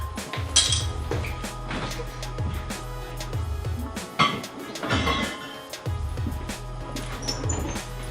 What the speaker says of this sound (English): I got a bottle opener in here somewhere.